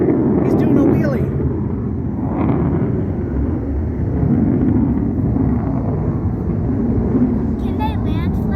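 An F-35 Lightning jet at an airshow practice day, a loud, continuous roaring rumble from a low pass that dominates throughout, with people talking over it.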